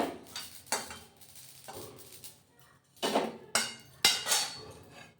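Fried poppy seeds, cumin and dried red chillies being scooped from a wok into a bowl, heard as a series of metallic spoon scrapes and knocks against the cookware in irregular bursts, close and fairly loud.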